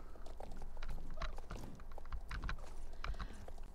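Horse hooves clip-clop in the video game Star Stable Online, a steady walking rhythm of soft thuds set back in a busy, fairly quiet game soundscape.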